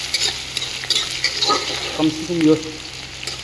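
Onions sizzling in oil with curry leaves while a spoon stirs and scrapes the pan, close and loud, with soft crackles and clinks, and a few quiet spoken words partway through.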